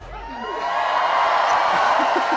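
Recorded live crowd cheering from a trad music concert album, rising into a sustained roar of cheers and whoops, loud and continuous.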